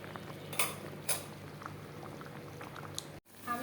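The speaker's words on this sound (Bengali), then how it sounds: "যে বেগুনি ভাজতেছি" Eggplant fritters (beguni) frying in oil, with steady bubbling and hissing, a couple of sharp utensil clinks early on, and a brief drop-out near the end before the frying resumes.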